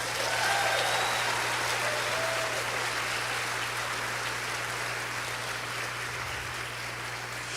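Audience applause at a Catholic sermon, a broad steady wash of clapping held at an even level throughout, with no voices over it.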